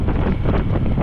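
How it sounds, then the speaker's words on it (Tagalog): Wind roaring steadily across the microphone while riding a Honda Click 125 scooter on a long highway ride toward Baguio, a loud, constant low buffeting rush with no breaks. "KJ, pansin mo yung hangin."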